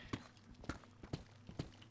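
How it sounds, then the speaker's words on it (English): Minecraft footsteps fall in four evenly spaced, crisp steps, each a short thud with a bright scuffing edge, moderately close against a faint background. "So the footsteps are on the right."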